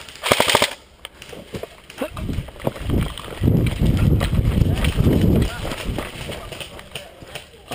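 Paintball guns fire in a game at a paintball field, with players shooting from a castle structure: a fast burst of shots at the start, then more scattered pops under loud shouting and talk.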